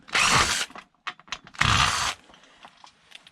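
A cordless wrench driver runs in two short, loud bursts about a second apart, each lasting roughly half a second, with quiet handling noises between them.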